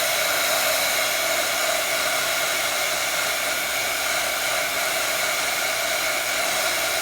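A heat gun blows steadily across a craft tag to dry the ink, a loud, even hiss of rushing air that runs unbroken from start to finish with no talking.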